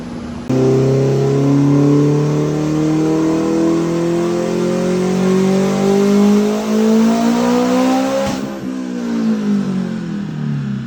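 Modified Nissan Juke engine on a dyno, revving hard and loud as its pitch climbs steadily through a long pull, then dropping sharply off throttle and settling into a lower drone.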